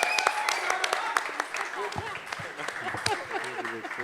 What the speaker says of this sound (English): let's have a huge round of applause again